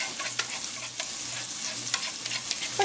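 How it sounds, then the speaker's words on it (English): Shallots sweating in a hot pan give a steady, close sizzle with brief stirring scrapes over a low constant hum, and no one speaks. "We're just going to let the shallots sweat a little bit."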